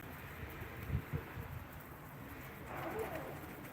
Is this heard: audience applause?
no